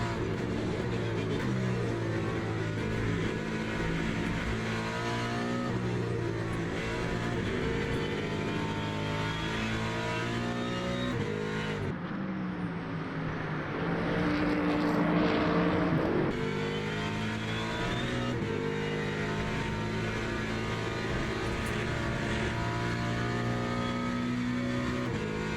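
Several GT3 race cars, a Ford Mustang and a BMW among them, race side by side in Le Mans Ultimate, with loud continuous engine drone and shifting, revving harmonics throughout and a brief dip in the middle.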